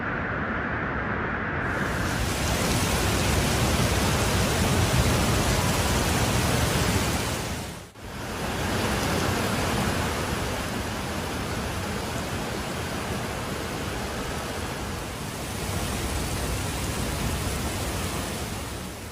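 Heavy rain and rushing floodwater in Oman, a loud, steady roar that fills the whole stretch, dipping briefly about halfway through, with no voices.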